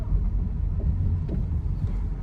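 Renault Mégane driving over a speed bump during a suspension test, heard from inside as a steady low road rumble with a couple of soft thumps as the wheels cross, and no rattles.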